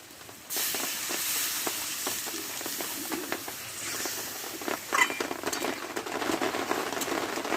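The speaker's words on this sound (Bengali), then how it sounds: "এবার অল্প একটু জল দিয়ে দেবো" Bitter gourd masala curry in a pan as a little water goes in, a sudden loud hiss of frying that keeps sizzling and spitting, with a few stirring scrapes.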